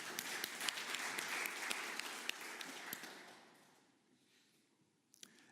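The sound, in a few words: audience applause for QEMU contributors at a keynote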